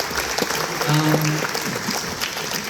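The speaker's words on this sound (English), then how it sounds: "You guys should give yourselves a round of applause." An audience at a university memorial lecture applauds students with a dense, steady clapping that fills the room, with a brief voice or tone heard amid the clapping.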